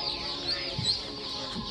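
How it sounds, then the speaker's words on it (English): Chickens cluck softly among ducks at a farm, a faint steady murmur of short clucks and calls lasting under two seconds. "These are chickens"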